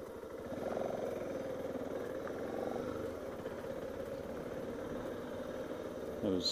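A Kawasaki KLR650 motorcycle engine idling nearby, a steady, even mid-pitched thrum that rises only slightly over several seconds. No voices are heard.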